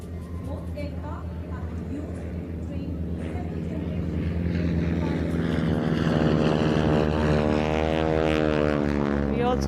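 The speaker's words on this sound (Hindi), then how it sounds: "We also have along with Tiger Moth, the Harvard aircraft being flown today" Tiger Moth and Harvard propeller aircraft fly at an Indian Air Force Day parade at Hindan airbase, a steady engine drone building slightly louder with a passing pitch sweep, under continuous commentary speech.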